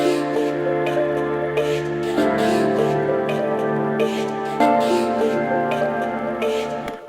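A song intro of sustained organ chords joined by piano, layered and steady at moderate loudness, with chord changes and faint percussive accents throughout.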